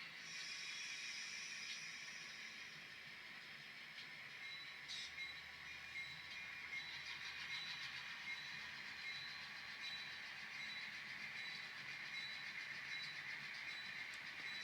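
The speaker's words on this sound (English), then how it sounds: "So now we're bringing the empties down here to the spare track." An N scale model train rolls along the track of a layout, a quiet steady whir and faint rail hiss without talking.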